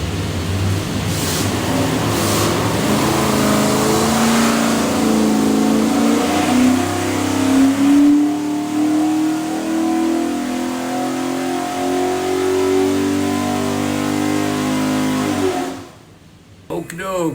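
A stack-injected 427ci Windsor Ford V8 on an engine dyno pulls through a long rising run, its loud roar climbing steadily in pitch for about fifteen seconds before cutting off abruptly, with a voice at the end.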